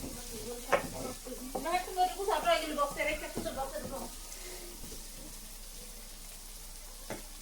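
Chana masala stirred in a pan, with a steady sizzle and a busy run of spoon scrapes and clatter near the start that thins out toward the end, plus a sharp knock near the close.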